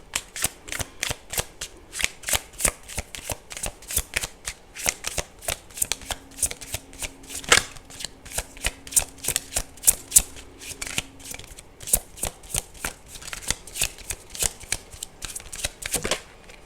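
Tarot cards shuffled by hand, a rapid run of crisp riffling snaps and flicks that carries on steadily for the whole stretch, close and fairly loud, with no talking.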